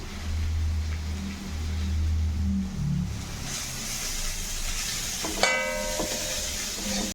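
A crispy masala dosa sizzles steadily on a hot pan as it is flipped, a constant hiss over a low hum, with a brief metallic ring near the end.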